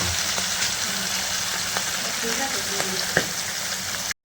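Fish frying in oil in a pan for a Bengali fish curry gives a steady, close sizzle throughout, with a few faint clinks and small pops over the hiss before it cuts off at the end.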